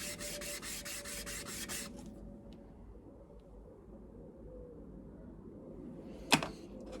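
Fine 800 grit abrasive paper rubs across a camshaft bearing surface on a 2017cc engine build, a close, fast rhythmic scrubbing for about two seconds, then faint room noise and one brief sharp knock near the end.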